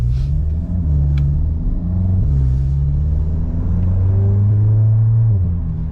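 A straight-piped Volkswagen GTI exhaust rumbles deep and loud at close range, the engine note climbing and dropping through several revs with a throaty burble, alone without talk.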